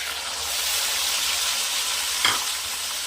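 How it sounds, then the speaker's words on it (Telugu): Tomato paste fries in oil for an Andhra-style chicken curry, giving a steady, close, broadband sizzle throughout, with one brief scrape near the end. "చేసుకున్న ఆయిల్లోనే ఇంకొంచెం ఆయిల్ యాడ్ చేద్దామండి. దీనిలో మనము ముందుగా టమాటా పేస్ట్ వేద్దామండి."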